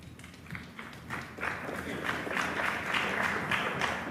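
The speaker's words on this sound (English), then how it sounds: "the odd clap in the arena" Scattered clapping from a crowd in a pool arena at a US Open semi-final, a soft patter of hands swelling and continuing for a few seconds, fairly distant and moderate in level.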